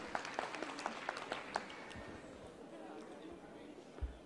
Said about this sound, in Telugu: చప్పట్లు కొట్టాలండి ఒకసారి